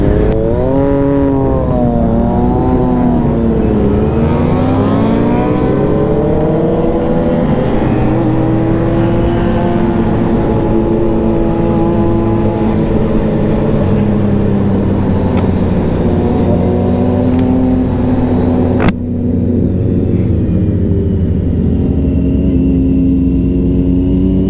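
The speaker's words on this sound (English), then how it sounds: "So here come the rest of the bikers." Several motorcycles ride past at a Wednesday night motorcyclist meetup in Washington, DC, with loud engines rising and falling in pitch as bikes accelerate by, and a steady rumble continuing after the last one passes.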